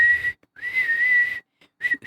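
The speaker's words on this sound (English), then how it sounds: "I'm not relaxed enough to whistle." A single person whistles a high, clear tone in three bursts, a short opening note, a long sustained phrase with a slight rising slide, then a brief closing chirp, close and alone with no talk.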